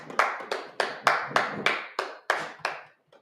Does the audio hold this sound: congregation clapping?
yes